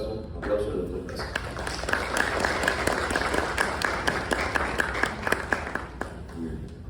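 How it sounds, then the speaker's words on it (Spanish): Audience in a university lecture hall applauds a speaker, a dense steady wash of clapping with sharper individual claps standing out, lasting several seconds at moderate level. "Por favor, recibamos un fuerte aplauso"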